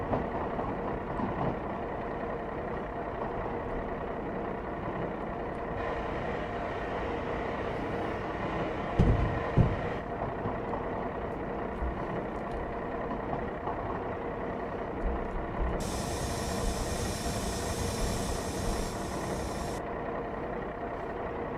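A 09 Series ballast tamper in the train simulator game Train Sim Classic, on the Stafford to Lichfield line, runs with a steady low engine drone and rail rumble, with a couple of faint knocks along the way.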